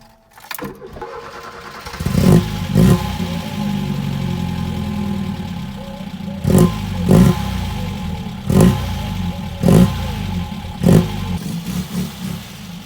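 A modified Mk2 Ford Fiesta on its first drive after restoration cranks and starts, then settles into a loud, close, steady idle, with repeated revs rising and falling in short bursts.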